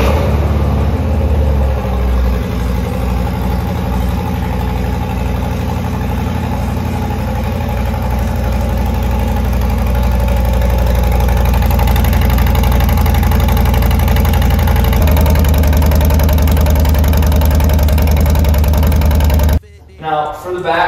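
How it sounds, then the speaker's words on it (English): A Harley-Davidson Low Rider ST fitted with Tap Performance Zombie slip-on exhausts idles close by, a loud, steady low rumble with a rhythmic lope that continues unbroken before cutting off abruptly near the end. "Let me fire up the bike that we can kind of get an idea about the exhaust."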